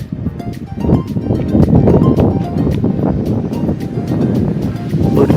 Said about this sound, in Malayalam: രക്ഷയില്ല കേസ് നല്ല ശക്തമായിട്ടുള്ള കാറ്റാണ്